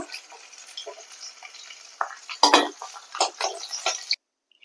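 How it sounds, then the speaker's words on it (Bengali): Pieces of rui fish frying in hot oil in a kadhai: a light sizzle under clattering utensil scrapes and knocks that grow louder midway, then cut off abruptly. "তেল গরম হয়ে গেছে এবার আমি মাছগুলোকে ভেজে নেব"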